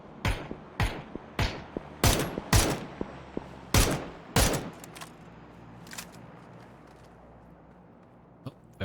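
Bursts of gunfire from a PUBG esports match crack out in quick, sharp volleys, dense at first and then thinning to scattered distant shots, with no talk over them.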